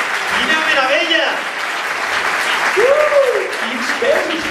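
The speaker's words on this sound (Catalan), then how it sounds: "un altre regalat per a la Susi, per favor, un aplaudiment." An audience at a dance class event applauds steadily while voices call out and cheer over the clapping, a continuous moderately loud patter throughout.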